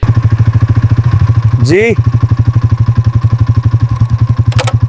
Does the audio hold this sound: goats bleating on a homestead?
no